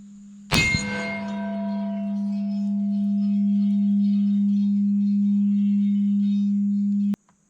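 A bullet from a 1916 Winchester-made Enfield Pattern 14 in .303 British strikes a round 10-inch steel gong, giving one sharp metallic clang that rings on as a long, steady tone for several seconds before cutting off.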